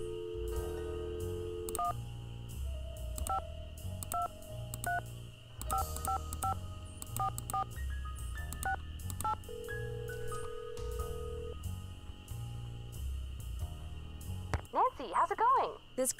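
Telephone keypad tones beep in quick sequences of short pitched presses in the Nancy Drew: Ghost Dogs of Moon Lake video game, over a steady background tone, ending with a rapid burst of warbling sounds.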